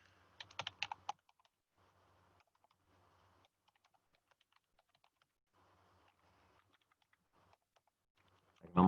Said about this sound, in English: I can almost type it.